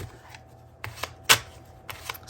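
A deck of Illuminated Star Tarot cards is shuffled in several short, crisp bursts of riffling and sliding, separated by brief quiet gaps.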